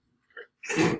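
A single sharp sneeze, preceded by a quick inhale, close and alone.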